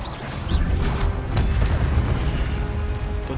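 A spell impact in the video game Hogwarts Legacy lands as a continuous rumbling boom with bursts and crackles, loud and sustained throughout, with no voices over it.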